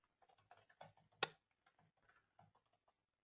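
Keyboard keys tapped on a computer while entering a short bit of text, a loose run of light clicks with one sharper, louder tap in the middle, close and fairly quiet with no talking.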